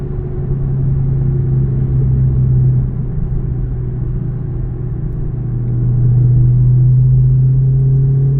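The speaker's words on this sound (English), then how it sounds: "Yes, this car gives you some fun time on the back roads for sure." A car cruising along country back roads, heard as a steady, loud engine drone and road rumble that swells slightly toward the end, with no speech.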